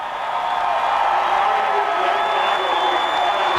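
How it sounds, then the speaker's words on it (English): A crowd at Indianapolis Motor Speedway during NASCAR Brickyard 400 pole qualifying roars in a steady, broad wash of cheering, continuous and fairly loud with distant whoops in it. "Listen to the crowd here at Indy."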